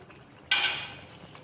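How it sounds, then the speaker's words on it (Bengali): Katla fish pieces go into a simmering pot of sour yogurt gravy with sugar and water, setting off a sudden loud hissing sizzle that fades gradually over the following second. "মাছগুলো দিয়ে দেবো, 2 মিনিট এইভাবে ফুটতে দেব।"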